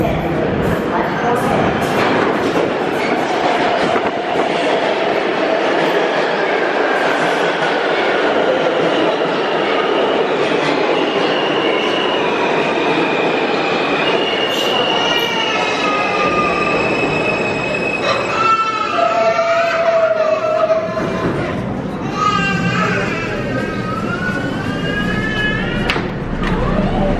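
An Alstom R160A New York City subway L train bound for 8th Avenue pulls into the 14th Street station with a loud, continuous rumble and shrill, shifting wheel squeals that grow sharper as it slows.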